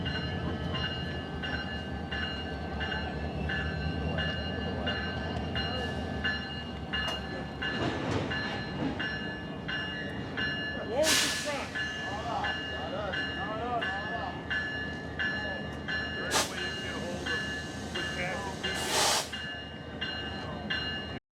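A Canadian Pacific train rolls past on the Rockland Subdivision, a continuous rumble with rail clatter and squealing wheels, several sharp bursts standing out partway through, and people speaking nearby over the steady noise.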